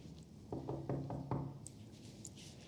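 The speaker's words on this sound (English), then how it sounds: "knocking on the door?" Four quick, faint knocks on a door in a Better Call Saul scene, sounding hollow and muffled in a quiet room, followed by a soft rustle.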